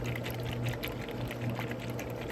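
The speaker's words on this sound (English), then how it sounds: "we're also going to pour our mixture slowly into our" Banana pudding egg mixture is poured slowly, giving a soft, continuous liquid trickle with a low steady hum behind it, close and quiet with no voices.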